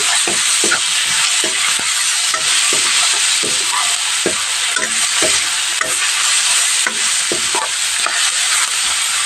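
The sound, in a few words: onion, bay leaf, garlic, ginger, chillies frying in oil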